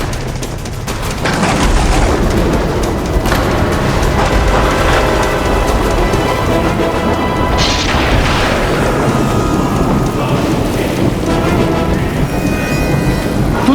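Heavy rain pours steadily and loudly, with deep booms of thunder rolling through the downpour of a fierce storm, with no voices.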